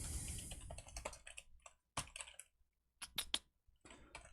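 Code is typed on a computer keyboard in short bursts of crisp, close clicks separated by brief pauses, with no talk over the typing.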